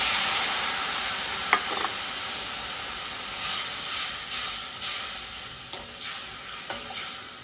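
Tamarind extract poured into a hot pan for pirandai rasam gives a steady, moderate sizzling hiss with a few soft clinks of the utensil and no talking.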